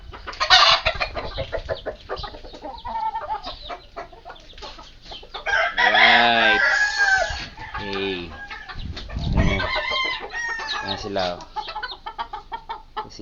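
A hen with young chicks clucks repeatedly and pecks at moringa leaves on a farm, loud close clucks and short calls coming in bursts, with a voice speaking briefly between them.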